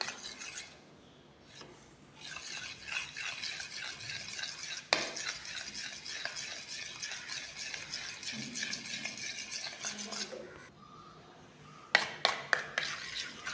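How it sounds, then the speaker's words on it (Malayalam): A homemade cream for dark circles being stirred in a small bowl: a steady, soft swishing and scraping runs close by for several seconds, then pauses before a few light clinks of the spoon against the container. "കുറച്ചധികം സമയം ഇത് മിക്സ് ആക്കിയാലാണ് നല്ലൊരു ക്രീമി ടെക്സ്ചറിൽ ഇത് നമുക്ക് കിട്ടുള്ളൂ"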